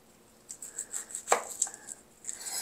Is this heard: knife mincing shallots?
yes